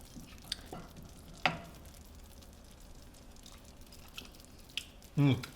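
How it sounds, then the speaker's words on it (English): A pan of sambal goreng made from canned fish simmers with a soft, faint bubbling and sizzle, broken by occasional stirring clinks and a louder utensil knock near the end. "This is going to have to simmer for about 15 minutes until everything is nice and soft."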